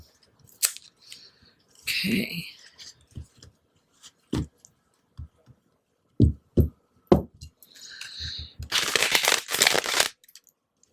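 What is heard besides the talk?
shuffling tarot cards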